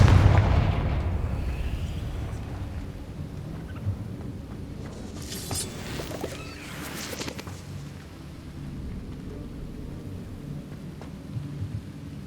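Confringo explosive spell blasting in the Hogwarts Legacy video game: a heavy booming burst at the start, then rumbling decay with a few crackling bursts and thuds in the middle, no talk.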